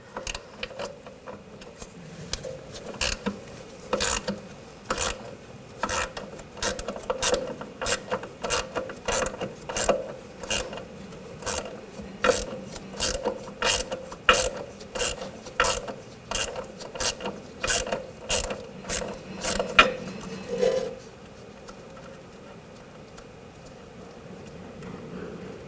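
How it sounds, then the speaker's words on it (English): A ratchet with a 10mm socket spins a nut off the rear suspension of a 2000-2006 BMW X5, producing a long run of sharp, rhythmic pawl clicks in bursts. The clicks are close and clear, then stop, leaving a faint hum. "Use a 9mm wrench on the back side, 10mm socket. Take this nut off."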